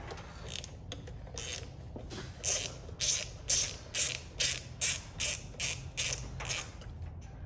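A hand ratchet loosens the bolts on an ignition coil of a 2006 Ford Mustang 4.0 V6, giving a steady run of about a dozen close, crisp clicking strokes in even rhythm, heard alone without talk.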